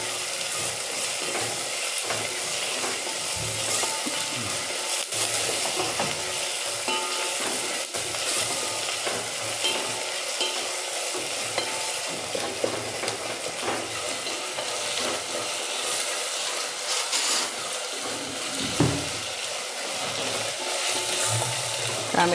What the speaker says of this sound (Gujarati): હવે 2-3 સેકન્ડ જેવું આપણે ટામેટાને ચડવી લઈશું,